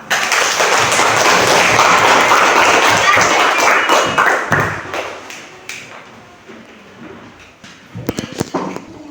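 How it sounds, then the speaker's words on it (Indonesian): Children in a third- or fifth-grade primary school classroom clap hands hard in a loud burst of rapid overlapping claps that fades, then a few scattered claps return near the end. "Kakak mau tepuk tangan yang kuat kalau kita mau selalu saling menolong."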